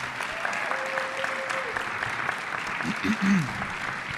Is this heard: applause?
yes